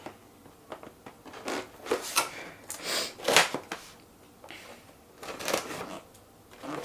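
Scissors cutting through tape on the side of a cardboard Nerf Zombie Strike Sledgefire box, a series of close crackling, ripping snips in irregular bursts.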